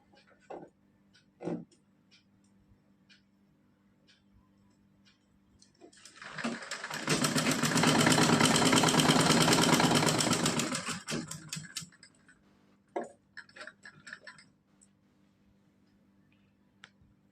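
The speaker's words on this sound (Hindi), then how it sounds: "सीधी सिलाई लगानी है क्योंकि हमारा ये डबल कपड़ा है यहाँ पे नेट का" A sewing machine runs a straight double seam through two layers of net fabric. It makes a steady mechanical whir for about five seconds, with quiet clicks and handling before and after.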